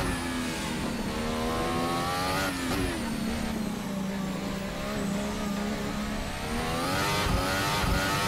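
A Formula Hybrid 2018 race car engine screams at full power in a sim racing game, a loud continuous high-pitched whine with steady harmonics that dips briefly as if shifting, then climbs again to the end.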